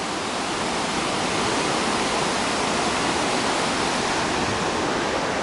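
Rushing stream water near Ramsey Cascades roars in a dense, steady wash of noise, close and loud, with no breaks and no voices.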